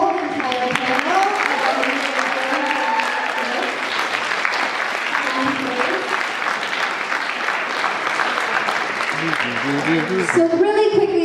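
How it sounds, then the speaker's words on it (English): A youth event crowd applauds the speaker panel, sustained loud clapping filling the room, with voices and cheers mixed in at the start and again near the end. "Let's give a big loud round of applause for our whole entire panel"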